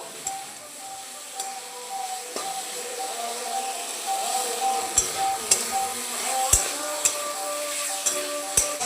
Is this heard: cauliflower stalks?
yes